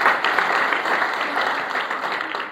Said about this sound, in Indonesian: Beri tepuk tangan yang terbaik.